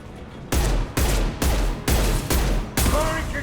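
Gunfire in Mass Effect 2 Legendary Edition, shooting down a loose fuel tank: six loud, close bursts of fire in steady rhythm, each cut off abruptly, with a faint tonal whine near the end.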